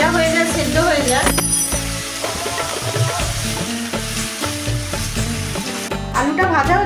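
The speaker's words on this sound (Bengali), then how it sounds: "তেলেতে এবার আমি আলুগুলো ভেজে নেব" Potatoes frying in hot oil with salt, a steady loud sizzle running throughout with occasional stirring clatter and background music.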